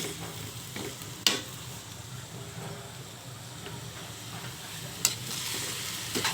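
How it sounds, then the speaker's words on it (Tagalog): Pork sautéing with onion, garlic and ginger for sinigang sizzles softly and steadily in the pan, with a couple of sharp stirring clanks along the way. "Ayan, sasangkutsahin ko po muna siya dyan ngayon."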